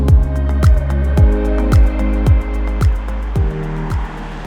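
A loud turbocharged engine of a 2022 BMW M440i Gran Coupe revs repeatedly, each rise in pitch cut off by a sharp gear change, pulling hard through the gears up close.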